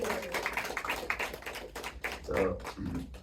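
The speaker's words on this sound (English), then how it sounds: "A huge round of applause to Radhe Shyam Prabhuji" Audience applause for a lecturer at a devotional talk, rapid hand claps at moderate distance continuing for a few seconds, with a voice briefly heard underneath.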